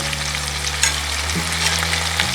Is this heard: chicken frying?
yes